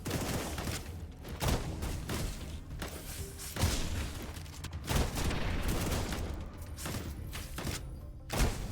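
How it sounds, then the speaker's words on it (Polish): A shooting character in the video game Shape of Dreams fires rapid bursts of gunfire with dull thuds and booms over a dense, busy game soundscape. "I akurat tutaj mam postać, która strzela"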